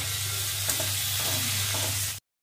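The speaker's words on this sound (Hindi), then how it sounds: "में तेल गर्म हो गया है और अभी हम इसमें मेथी डाल रहे हैं, और अभी कटी हुई प्याज को कुछ समय तक फ्राई करेंगे।" Fenugreek seeds and chopped onions frying in hot oil, a dense, steady sizzle with a low hum beneath and a few faint stirring scrapes, ending abruptly in silence.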